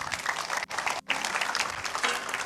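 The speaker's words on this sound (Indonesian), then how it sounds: "Beri tepuk tangan" Church congregation applauding together, a loud steady wash of clapping with two brief gaps where it drops out before resuming at full strength.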